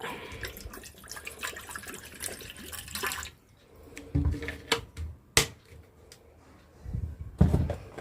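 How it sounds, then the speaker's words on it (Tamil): Water pours steadily into a pot for a few seconds, then stops, followed by scattered clanks and knocks of metal cookware close by, beside an induction stove. "இப்போ நம்ம தண்ணி ஊற்றிக்கலாம் பாத்திரத்தில்"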